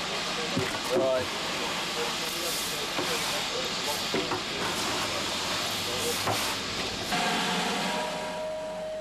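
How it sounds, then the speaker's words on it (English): Steady broadband steam hiss from a steam locomotive rolling forward on its remaining steam, continuous and fairly loud, with a few clanks and a tone rising near the end. "The engine rolls forward on its remaining steam."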